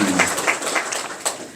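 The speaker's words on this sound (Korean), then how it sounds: "의원님들 위해서 박수 한번 쳐주세요." An indoor audience at a town residents' meeting claps briefly in a soft, scattered burst of applause lasting under two seconds.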